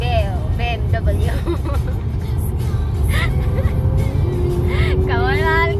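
Sports cars such as a Ferrari and a Porsche roar along a European highway, with loud, continuous engine and road noise and a rising whine near the end, while voices chatter throughout.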